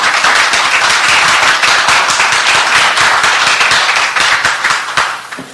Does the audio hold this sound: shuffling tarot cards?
no